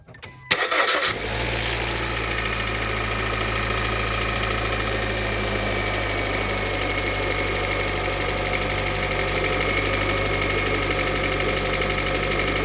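A Kia Soul engine, just fitted with a new belt, cranks briefly and catches, then settles into a steady, loud, close idle that runs on evenly with no other sounds.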